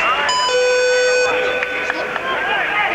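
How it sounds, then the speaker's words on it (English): A boxing ring bell rings out to end round two of a 1986 Goodwill Games bout in Moscow, bright sustained tones ringing over a noisy arena crowd, followed by a few sharp knocks. "There's the bell to end round"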